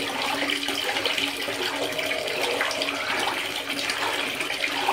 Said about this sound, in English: let's start splashing it around.